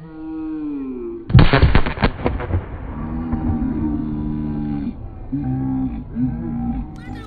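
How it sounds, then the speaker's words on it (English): Firecrackers blast a backpack in an abandoned city plaza: a loud, close burst of rapid cracks lasting under a second, followed by children's voices calling out. "we're now about to explode this mochila."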